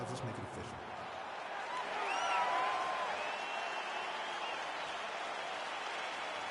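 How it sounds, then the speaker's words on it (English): Arena crowd in a UFC video game, a broad wash of cheering and applause that swells midway and then holds steady, with a voice talking over it. "crowd getting excited as this fight gets underway"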